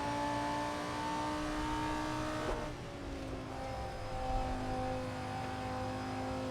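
A SuperTrofeo race car engine in a sim racing game drones steadily at high revs, a continuous buzzy note that dips briefly as it shifts, then climbs again, with no talking.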